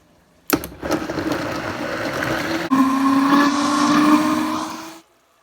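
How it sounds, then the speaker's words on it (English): A blender whirring with about half a cup of water, the motor starting abruptly, shifting to a steadier, lower hum partway through, then cutting off near the end. "about a half a cup of water into the blender and blend this"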